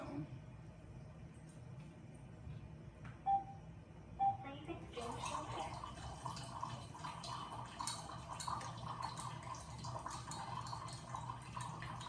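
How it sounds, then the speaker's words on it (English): Thawed mushrooms are rinsed for a veggie gumbo as running tap water starts after a couple of clinks, then pours steadily and fairly faintly into a sink. "I'm just gonna rinse these off a little bit"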